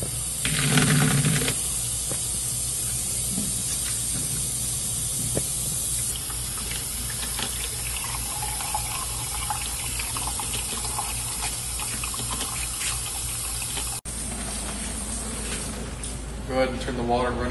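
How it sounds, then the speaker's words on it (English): Steady hissing rush of cold water running from a tap to develop a cyanotype print, continuous and fairly loud throughout, with faint clinks and shifts partway through. "All it takes to develop this is some cold flowing water."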